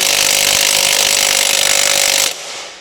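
An air impact gun fitted with an extension hammers steadily at a screw on a Yamaha NMAX 125 scooter, a loud continuous buzzing rattle that cuts off abruptly near the end.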